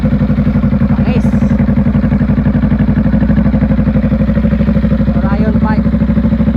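A Honda Rebel 500 fitted with an Orion slip-on twin muffler idles nearby with a loud, steady, deep pulsing thump. A voice speaks briefly over the exhaust note.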